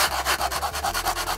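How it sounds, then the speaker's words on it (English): A sanding block is rubbed back and forth over wood to finish a cut edge for a low-budget sci-fi cockpit build, giving about eight rhythmic, close scratchy strokes with no speech. "then just use a sanding block just to finish it off."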